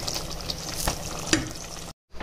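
A Marathi broad bean gravy bubbles and sizzles in a pan while being stirred, with a steady loud frying hiss, a few scraping strokes, and a brief silent gap near the end.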